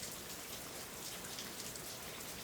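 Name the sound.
rain falling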